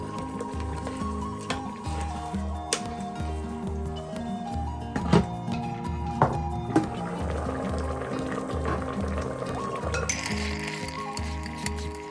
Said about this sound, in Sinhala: ඒක ටික වෙලාවක් තැම්බෙන්න තියලා වතුර කෝප්පයක් දාගන්න.